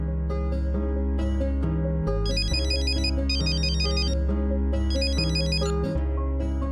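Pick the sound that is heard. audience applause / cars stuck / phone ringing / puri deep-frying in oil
phone ringing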